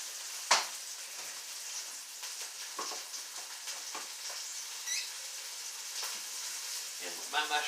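Mushrooms and onions fry in a pan with a little water and garlic salt, giving a soft, steady sizzle with occasional crackles and light stirring clicks, fairly faint, with no talking.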